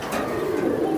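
Racing pigeons coo softly and continuously at close range, a low steady burbling murmur with no voices over it.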